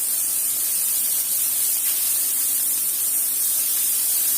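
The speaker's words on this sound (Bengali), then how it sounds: "সয়াবড়িগুলো দেখো ভেজে তুলে নিচ্ছি" Soya chunks frying in oil in a home kitchen, a loud continuous close hiss of sizzling with no pauses or voices.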